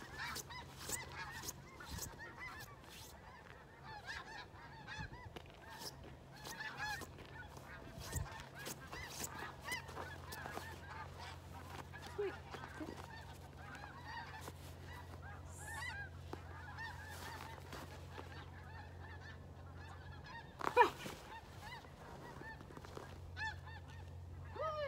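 A flock of snow geese honks repeatedly while flying over open country, many overlapping distant calls in a busy, irregular chorus with one louder, closer call partway through, over a faint low hum.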